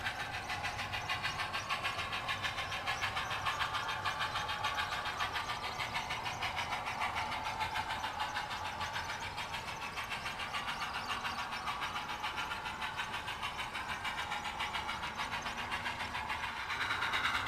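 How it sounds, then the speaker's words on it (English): Union Pacific FEF steam locomotive 842 labors to start a train up the grade of Weber Canyon out of Ogden, a loud, steady rhythmic chuffing and rumble that stays close throughout. "train number 2 struggle to start its ascent up Weber Canyon out of Ogden. Led by 842 again"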